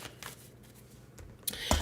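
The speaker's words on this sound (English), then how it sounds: "I'm going to start by shuffling these astrology cards" Deck of astrology cards being shuffled by hand: a few soft riffling rustles, ending in sharper flicking snaps, close and alone.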